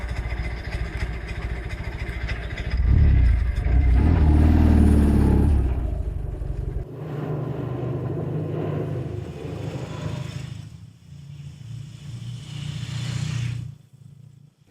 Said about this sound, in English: It's a revving engine, and it's begging to pile on.